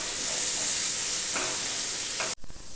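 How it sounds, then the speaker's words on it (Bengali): Potato pieces frying in a pan with turmeric, a dense, even hiss held close and loud throughout, touched by a couple of faint stirring scrapes before it cuts off abruptly near the end. "আলুটা খুব ভালো করে ভেজে নেব, যাতে আলুটা ভাজতে ভাজতেই অর্ধেক সেদ্ধ হয়ে যায়।"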